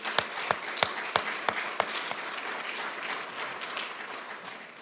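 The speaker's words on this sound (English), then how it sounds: "we should give you a big round of applause" Applause from an audience at an academic installation ceremony for an endowed architecture professorship, opening with a handful of loud, distinct claps that soon blend into steady clapping which fades gently toward the end.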